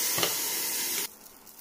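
Water splashed into a hot grill pan where shrimp and small buns are pan-frying gives a loud, harsh hiss that cuts off abruptly after about a second, leaving a faint simmer.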